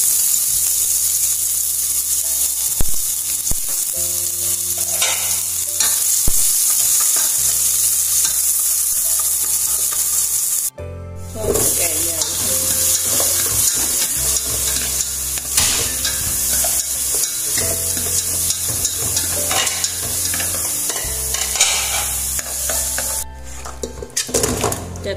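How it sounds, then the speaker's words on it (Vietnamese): Chopped onions and minced garlic fry in a small amount of oil for Vietnamese sour fish soup, a loud, constant sizzle with stirring scrapes and occasional clinks of a utensil against the pan. "Cho hành đi, tỏi băm vào đây."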